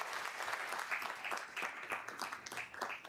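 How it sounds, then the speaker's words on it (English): An audience at a town board swearing-in ceremony gives a round of applause, a quiet, fairly distant patter of many hands with uneven surges, with a hint of voices underneath. "give them both a round of applause as well"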